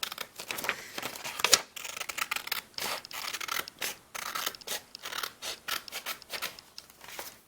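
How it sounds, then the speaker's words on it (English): Scissors snip repeatedly through origami paper, a quick, close, crisp sequence of cuts and rustles with no talking. "So snip it."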